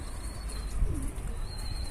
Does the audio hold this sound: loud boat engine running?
no